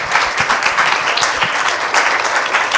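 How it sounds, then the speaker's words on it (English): An in-person audience claps for a panel of women at a mentorship session, a lively round of applause with uneven swells and individual claps standing out, loud and close, without speech. "can we give a round of applause for these wonderful women here?"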